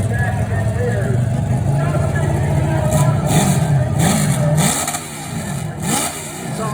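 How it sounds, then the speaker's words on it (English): Hillclimb motorcycle engine revving at a ski hill event, a loud continuous engine drone with rising rev surges, heard alongside constant crowd and spectator chatter. "It sounds like it has like an engine on like a crotch rocket in it."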